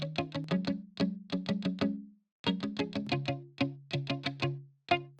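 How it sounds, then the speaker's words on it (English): Muted electric guitar plucked in quick staccato runs through a lush 80s-style chorus effect, short bright notes in rhythmic bursts with a brief pause midway, played alone. "this one has a very cool 80s effect,"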